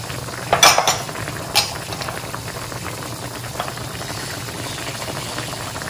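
A spoon stirs and clinks against a pan of sweet and sour sauce being made for fried tilapia, with a couple of sharp metallic knocks near the start, then a low steady kitchen hum.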